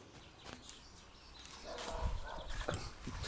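A dog gives a few soft whimpers and yips in a workshop where a 1999 Chrysler Grand Voyager AWD is being worked on, faint and intermittent over low background noise.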